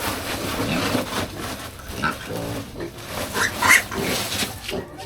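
A newly bought pig being let out of a sack grunts and snorts amid busy rustling and handling noise, with several short oinks and squeals over continuous background clatter and faint voices nearby.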